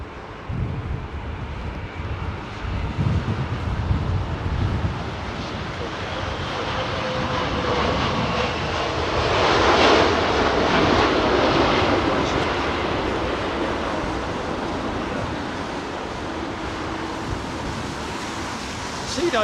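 Airliner landing on runway 27R at London Heathrow: a steady broadband jet roar that swells to a peak midway as the aircraft passes close, then a sustained engine rumble, with a voice talking over it.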